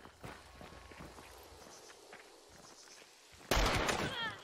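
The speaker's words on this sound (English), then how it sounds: "These are footsteps you can rely on." Footsteps in the video game Hunt: Showdown sound as soft, irregular thuds and scuffs at moderate distance, then a sudden loud burst like gunfire breaks in near the end.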